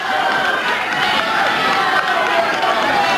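A wrestling arena crowd on its feet cheering on Pat O'Connor in his match against Dick Murdoch, a loud, dense, continuous roar of many voices.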